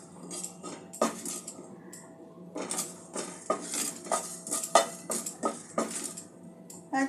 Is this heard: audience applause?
no